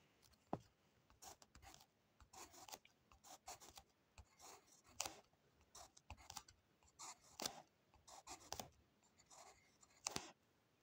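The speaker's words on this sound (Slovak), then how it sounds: "Takýto papierik a idem to napísať." A pen writes on a small slip of paper close to the microphone in quick, irregular bursts of scratchy strokes separated by short pauses.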